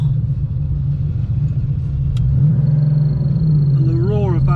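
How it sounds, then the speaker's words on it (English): A Porsche 911's rear-mounted engine drones low and steady while driving, a constant rumble inside the cabin with a brief rise in pitch near the end. "the roar of that engine from the back is a bit louder than in my 996"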